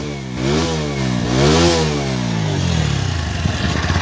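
A TVS Apache RTR 160 4V motorcycle, about four and a half years old, revs up sharply several times in quick throttle blips from a steady idle, loud and close, settling back into a lumpy idle.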